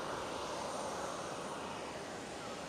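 Two KLM Boeing 737s at Schiphol spool up their jet engines after pushback, a steady, fairly faint engine roar with a smooth, even hiss throughout.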